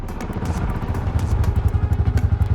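Two motorcycles pull up right beside a car, their engines throbbing in a low, rhythmic chug that grows steadier and more pronounced toward the end, with faint clattering over it.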